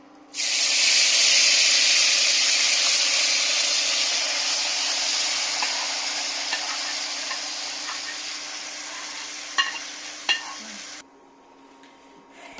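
Potatoes drop into hot ghee in a kadai and set off a loud, steady sizzle. It holds for about ten seconds with a few sharp crackles, then cuts off abruptly.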